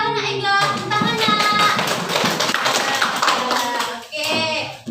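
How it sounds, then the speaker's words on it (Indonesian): Children in a combined-grade classroom clap their hands together in a loud, close burst. Children's voices chatter over the clapping, which breaks off briefly and then resumes near the end. "Tepuk tangannya."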